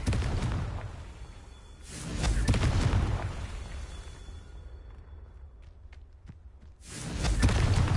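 A Confringo blasting spell from Hogwarts Legacy on PS4 erupts in loud booming bursts with whooshing tails, one near the start, another around two seconds and a third at the end, separated by quieter rumbling ambience.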